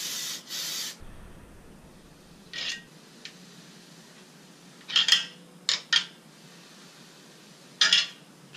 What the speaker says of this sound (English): Just use some regular brake cleaner, just like that.